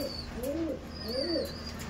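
A green pigeon coos close by, giving two clear rolling calls in quick succession over a steady low hum, with faint higher chirps between them.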